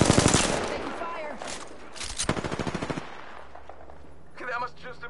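Rapid automatic gunfire in the video game Apex Legends, loud and close in dense bursts, with a second rattling burst in the middle before it eases into softer game effects.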